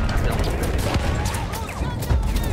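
Rapid gunfire in a Battlefield 1 World War I battle, with dense crackling shots and sharp impacts rattling close by under loud game noise, while someone talks excitedly over it.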